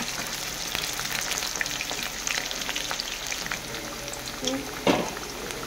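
Potatoes fry in hot oil in a wok until reddish-brown, giving a steady, close crackling sizzle throughout, with a brief louder stir or scrape near the end.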